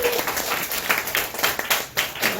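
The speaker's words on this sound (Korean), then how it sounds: "나한테 한번 박수 한번 쳐줘요" Clapping from a small group at a Korean Herbalife product presentation, a few seconds of scattered, uneven claps close by.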